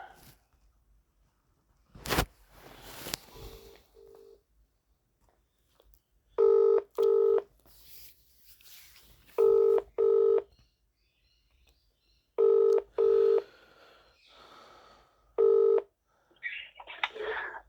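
A telephone is dialed by keypad, its beeping tones arriving in short paired bursts spaced a few seconds apart, clear and close, with a few faint handling clicks between them.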